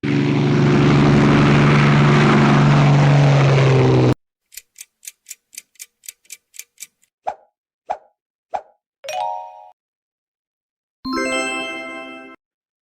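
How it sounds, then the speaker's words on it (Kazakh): A biplane's propeller engine drones loud and steady for about four seconds, then stops, followed by a string of light plinks, dings and a brief bright jingle, with no talking. "Тамаша! Бұл биплан."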